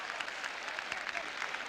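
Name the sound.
crowd applause after a goal at a football match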